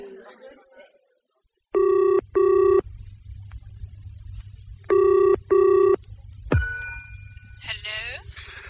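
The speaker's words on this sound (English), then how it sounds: "Do you mind if I telephone, Lottie?" An old-style telephone bell rings in two double bursts, loud and close over a low background hum, followed by a click and a brief voice on the line.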